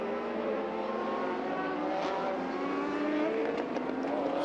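A race car at the 2020 Lone Star Le Mans WEC race accelerates through the gears. Its engine note climbs steadily in a loud, sustained whine with a brief shift, heard from a distance over faint crowd and track ambience.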